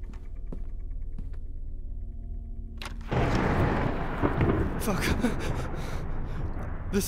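A thunderstorm in the horror video game Madison: a quiet humming interior gives way to a sudden loud burst of rain and rumbling thunder that continues steadily, with a voice briefly audible.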